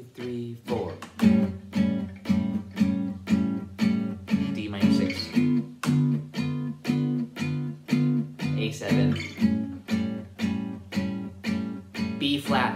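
Steady strummed gypsy jazz acoustic guitar rhythm chords from Dark Eyes in a swinging, even pulse, each stroke crisp and percussive, with chord changes every bar and no voices.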